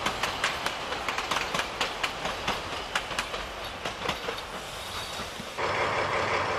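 A narrow-gauge steam train on the Cranzahl–Oberwiesenthal line in Saxony rolls past close by, rhythmic clickety-clack of wheels over rail joints with a rumbling roar, settling into steadier noise at the end.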